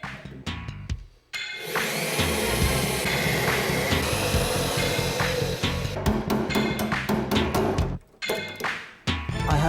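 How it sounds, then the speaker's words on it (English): A power drill whines steadily for several seconds at close range, then breaks into short bursts and knocks as it drills out pop rivets on a Lotus. "I thought I was finished drilling pop rivets out."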